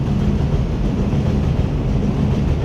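A train rumbles past close by, a loud continuous low roar and rattle of rolling cars with no talking.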